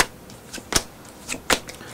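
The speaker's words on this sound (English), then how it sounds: "shuffle them up" Playing cards shuffled by hand during a magic trick, heard as a few soft, quick riffling bursts spread across a couple of seconds, close by, with no talking.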